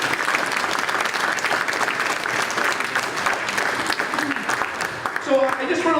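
A crowd at a police and firefighters breakfast applauding steadily for several seconds, dense clapping that carries on evenly before a voice begins to speak near the end.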